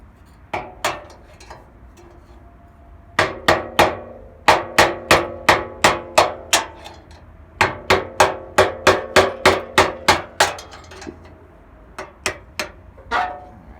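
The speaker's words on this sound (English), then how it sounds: "Bring back the hammer." Sharp metallic hammer blows on a 2007 Chevy Impala fender ring out in quick rhythmic bursts, pausing between sets, close and loud with a clanging resonance.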